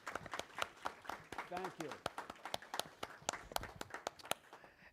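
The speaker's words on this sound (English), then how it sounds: "Let's give them a round of applause." Sparse audience applause at a public school board meeting, scattered distinct claps under a brief spoken thanks.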